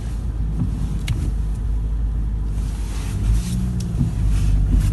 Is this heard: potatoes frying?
no